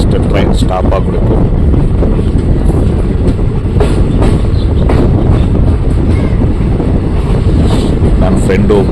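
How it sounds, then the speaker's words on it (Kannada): A train rumbles and clatters loudly and close by as it pulls into Sagarakatte railway station, with steady wheel noise, some wind buffeting, and voices talking over it. "ಜಸ್ಟ್ ಟ್ರೈನ್ ಸ್ಟಾಪ್ ಆಗಬೇಕು."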